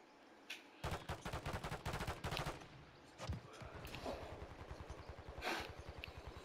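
Rapid automatic gunfire from a shooter game rattles in quick bursts, with a dense stretch of fast shots early on and another sustained volley later, fairly loud and close over a quiet background.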